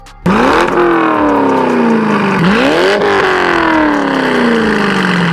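A loud, throaty C5 Corvette V8 with an SLP Loudmouth exhaust, long-tube headers and a catless X-pipe revs up repeatedly, each rev climbing and then falling back in a deep burbling roar.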